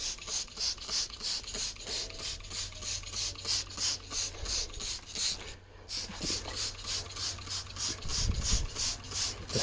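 Eagle Alloys wheels from a GMC Sierra 1500 are scrubbed clean with a brush, a close rhythmic back-and-forth rubbing that repeats steadily with a short pause midway.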